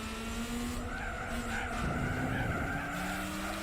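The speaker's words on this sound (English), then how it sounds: "Listen to the tyre squeal there" Tyres squeal steadily on a Mercedes-Benz in Gran Turismo 4, a sustained tonal screech over continuous engine drone for several seconds, loud and close with no pauses.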